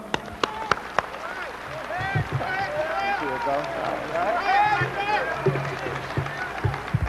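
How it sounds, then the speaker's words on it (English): An audience bursts into applause and cheering to welcome Minister Jamil Muhammad to the podium, with steady clapping and raised voices from a crowd filling the room. "Please welcome him with a warm round of applause"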